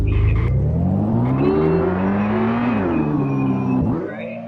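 Player-driven car in a Unity first-person game, its engine revving up and down in smooth rising and falling tones, loud and close, easing off at the end.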